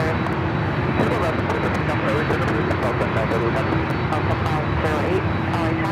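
Airliner at Los Angeles International Airport during takeoff, a continuous loud roar of engines with steady broadband rumble and a faint tonal whine, filling the whole stretch without pause.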